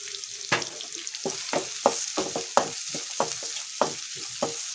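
Onions and curry leaves with a little salt frying in a pan for capsicum chicken fry, a steady sizzle broken by repeated stirring scrapes at a fast irregular rhythm, close and loud.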